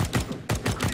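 Gunfire in Counter-Strike: Global Offensive comes as two rapid volleys of sharp, closely spaced shots, moderately loud with a brief gap between bursts.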